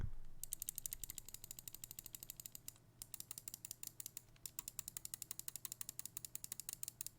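Rapid clicking of the left and right buttons on a Pwnage Ultra Custom ergonomic gaming mouse: a long run of sharp, evenly spaced close-up clicks, faint overall, with a brief pause partway through.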